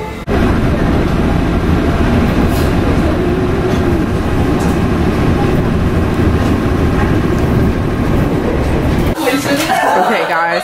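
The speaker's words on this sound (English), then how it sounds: "waiting for our train. It should be here in the next 10 minutes." Train pulling into a station in Japan, a steady loud rumble of rolling wheels and motor noise filling most of the span, then easing off near the end as a voice starts up.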